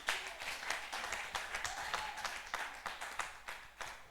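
A church congregation claps in a steady, rhythmic pattern of fairly faint applause that keeps a regular beat throughout, with no other sounds standing out.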